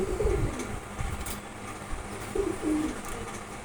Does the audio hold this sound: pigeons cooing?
yes